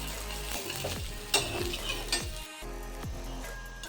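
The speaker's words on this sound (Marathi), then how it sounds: "तव्यावरती टाकून घ्यायचा आहे या पद्धतीने आणि परत आपल्याला अवतीभोवती थोडंसं तेल टाकायचं आहे" Pumpkin paratha frying in oil on a griddle, a steady close sizzle punctuated by several clinks and scrapes of a spatula, with a brief dropout near the middle.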